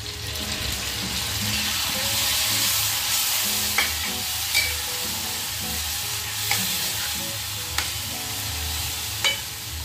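Chicken pieces for biryani sizzle and hiss in a pan as ginger-garlic water goes in, a loud continuous frying roar with occasional scraping stirs and small clinks.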